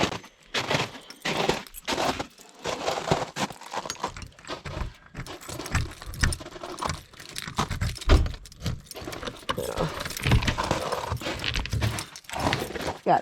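Metal keys jangle and clink repeatedly in brief bursts on the back of a UTV at an off-grid cabin, with rustling and handling noise in between, fairly close and steady.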